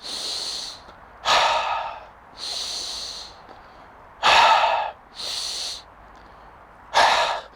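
Slow, deep breaths during a posture exercise, with loud, close inhales and exhales through the nose alternating with quieter pauses, about five breaths in all.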